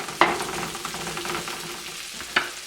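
Brown sugar stirred into garlic and onions sizzling in a pan for bacon jam: a steady soft fry hiss with two sharp scrape clicks from the spoon, close and alone.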